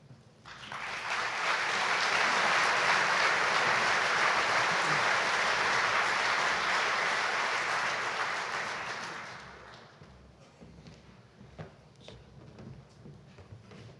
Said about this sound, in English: How about another round of applause for our co-chairman?